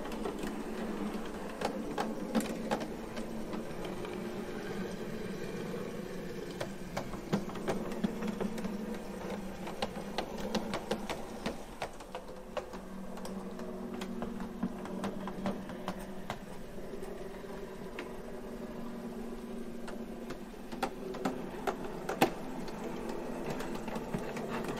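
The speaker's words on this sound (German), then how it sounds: "damit man auch mal hört, wie ruhig der Faulhabenmotor läuft." Quiet Faulhaber electric motor driving a brass BR 81 gauge 1 model steam locomotive, a steady low hum with faint mechanical whirring and small clicks running throughout, no voices.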